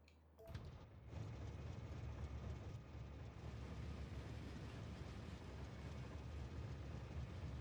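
A train rolls along in Factorio, a steady low rumbling drone that starts abruptly and holds at an even, moderate level with no talk.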